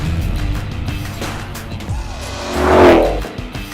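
A 2021 Ford Mustang Shelby GT500 with a Roots-supercharged 5.2-litre V8 roars loudly, the engine note rising into a sharp swell with tyre squeal near the end before dropping away.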